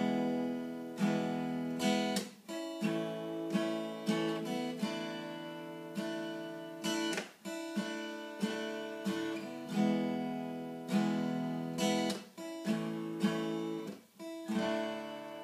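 Guitar chords strummed slowly and evenly, each chord ringing before the next, close and moderately loud with no talking.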